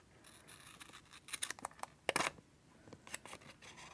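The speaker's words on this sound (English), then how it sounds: "Let's cut a little bit of a straight line down here." Scissors snip through paper in a run of short, close cuts while a straight line is trimmed for a planner layout, the strongest snips near the middle, with no talk.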